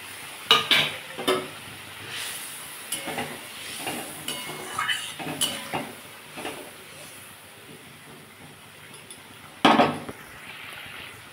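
A rohu fish curry with yogurt and fried brinjal simmers in a pan with a soft bubbling hiss. A spoon scrapes and clinks against the pan now and then, and a sharper clatter comes near the end.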